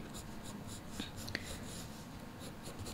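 A pencil sketches quickly and loosely on paper while roughing out a drawing of Mario, giving a faint, continuous scratchy rustle with a couple of small taps, close and quiet with no talking.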